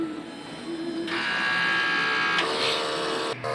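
An inkjet printer runs a strong head clean, with a whirring, buzzing mechanism that rises sharply after a second, shifts pitch midway and cuts off abruptly near the end, close and steady.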